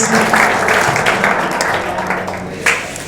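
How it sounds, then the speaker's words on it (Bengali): Applause for a student at an ITI ceremony in a hall, a dense steady crowd clapping that holds for a few seconds and slowly thins, loud and close. "সায়ন্তনের জন্য একটা হাততালি হবে প্লিজ"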